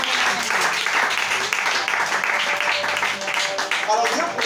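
A congregation applauds during a French-language church service, with loud, sustained clapping throughout, voices mixed in and a few shouts rising over it.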